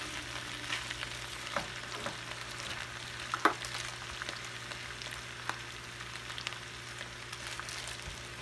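Spinach wilting in a frying pan over turned-down heat gives a steady, quiet sizzle with faint crackles and occasional clicks of stirring.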